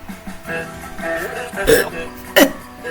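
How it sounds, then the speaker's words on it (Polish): A burp bursts out during a gaming stream, one short throaty belch near the end following a smaller guttural gulp, loud and close against low background music. "Sorry, mówiłem, że będę bekał."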